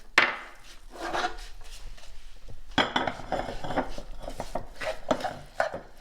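Raisins are mixed into dough in a bowl, with a spoon scraping and knocking against the sides in irregular bursts, close and fairly clear, with no voice over it.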